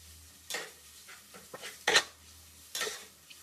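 Ginger garlic paste fries in a pan under a quiet sizzle, punctuated by four or five distinct scraping, clinking strokes of a spoon against the pan.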